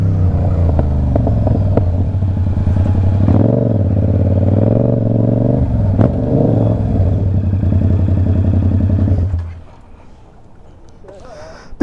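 A Yamaha R7 motorcycle engine drones loud and steady while being ridden, with small rises in pitch, then cuts off sharply near the end and leaves near silence.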